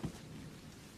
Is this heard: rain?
yes